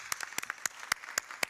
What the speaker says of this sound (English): a round of applause for this magnificent achievement, please